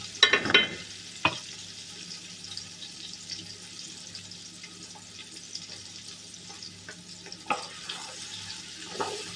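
Onion and garlic fry toward brown in a pan, a low, quiet sizzle broken by a few sharp spatula knocks and clatters near the start and end.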